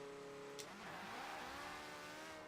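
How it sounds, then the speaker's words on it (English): A fully upgraded Porsche 918 launching from 0 to 60 in the racing game Forza Horizon 4, its engine note climbing fast and loud in one continuous rising rev with no pauses. "the Porsche 918 can do 0 to 60 faster than every other car in the game, fully upgraded"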